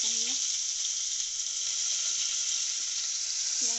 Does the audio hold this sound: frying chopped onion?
yes